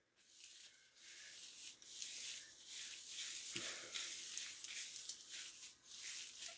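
Soft, close squishy rubbing as hair color remover lather is worked into dyed pink hair, quiet irregular strokes continuing through most of the stretch.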